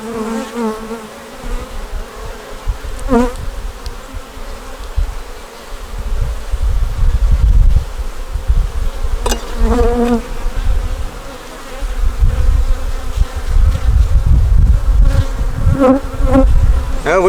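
Honeybees buzz at an open hive during an inspection, a dense, continuous drone close by with a few louder individual bees passing near, over low rumbling handling noise.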